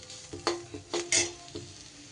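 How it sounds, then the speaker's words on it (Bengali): A spoon stirs spices into onion frying in a little oil for a kundri (ivy gourd) and potato curry, with steady sizzling and several quick scraping strokes against the pan, close and fairly loud, no voices. "একটু তেলের মধ্যে পেঁয়াজের সাথে মশলাটা নাড়াচাড়া করে নিয়ে"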